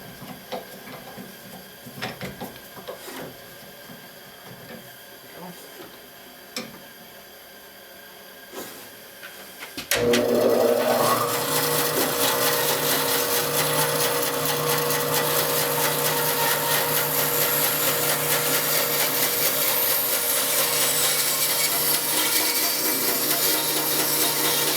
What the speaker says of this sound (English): I'm just going to go ahead and cut it out on the bandsaw